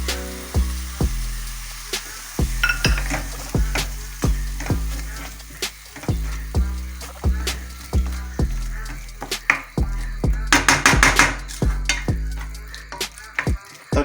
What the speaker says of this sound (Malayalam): തക്കാളി ഒന്ന് വഴണ്ട് വരട്ടെ